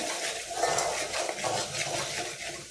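Malvani roasted masala with a pinch of turmeric is sautéed in a pan for egg curry, a close, continuous sizzling hiss with soft scraping of a spoon stirring through it.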